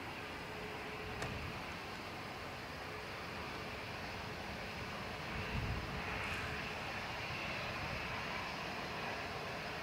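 A Challenger 650 business jet's engines roar steadily at Dublin Airport, a broad, continuous rushing drone heard from a distance with no breaks.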